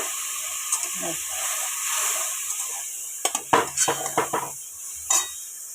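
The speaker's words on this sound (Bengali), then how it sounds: "এবার বেগুন আর আলুটা যখন ভাজা ভাজা হয়ে যাবে তখন আমি এতে এই বাটা মশলাটা এতে আমি দিয়ে দিলাম পুরোটা" Spice paste goes into frying eggplant and potato, a steady sizzle and hiss broken by a cluster of metal spoon scrapes and clanks against the pan.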